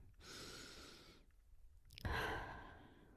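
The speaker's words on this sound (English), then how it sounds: "we're going to take a deep breath" A slow, deep breath drawn in close to the mic, then a brief pause and a long, audible exhale, soft and breathy with no talking.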